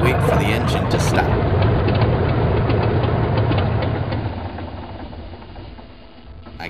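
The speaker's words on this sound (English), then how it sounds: "We wait for the engine to stop." A broken-down engine keeps running with a steady, rough, knocking drone that holds loud and then slowly fades over the last few seconds.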